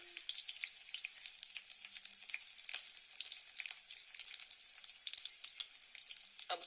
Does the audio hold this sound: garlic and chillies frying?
yes